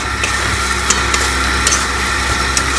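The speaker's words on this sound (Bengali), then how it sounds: "এবার একটা তেলে কষবো" Spices sauté in hot oil in a pan: a loud, close, steady sizzle with a few soft clinks of stirring over the top.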